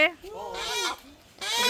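A wild chicken in Bali squawks and honks in panic while being chased and grabbed, giving several loud, close, harsh calls in short bursts with brief gaps between.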